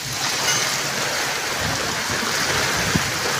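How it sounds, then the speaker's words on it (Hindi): Steady broadband rush of heavy monsoon-season rainfall and wind-driven water in a storm, continuous and dense throughout, with no voices. "यह देखिए नज़ारा, इतना घमासान आंधी और तूफान"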